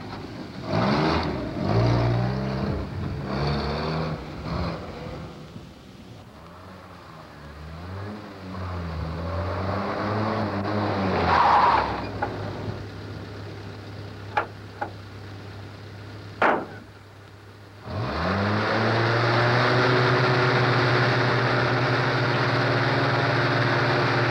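A Land Rover Series 3 drives and manoeuvres, its engine rising and falling through revs, going quiet midway and then returning loud and steady, with a few sharp clicks and knocks in between.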